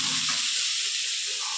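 Onions frying in a pan give off a steady loud hiss and sizzle, close and continuous, with a faint low sound early on.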